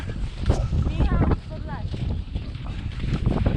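Strong spring wind in the Karkonosze mountains buffets the microphone in a constant roar, with voices talking underneath and faint water or boat sounds in the background.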